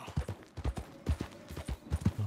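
Horse hooves clip-clop in a steady, rhythmic walking pattern in Red Dead Redemption 2, fairly faint and close, with no other sounds competing.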